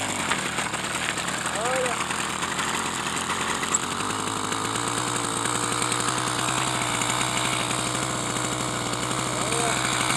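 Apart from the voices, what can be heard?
80cc motorized bicycle engine starting and running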